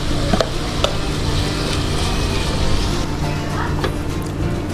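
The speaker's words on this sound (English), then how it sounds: "Now you can stir fry it till it's soft, or you can stir fry it till it's hard" Vegetables stir-fried in a hot pan give a steady, close sizzle, broken by a few sharp clatters and scrapes as they are tossed and stirred throughout.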